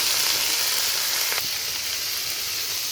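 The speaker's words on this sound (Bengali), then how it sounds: "একসঙ্গে পেঁয়াজ আর একসঙ্গে আমগুলো ভাজবো।" Onions and small mangoes fry together in a pan with a steady, loud sizzle and hiss, close up and continuous, with a faint clink of stirring midway.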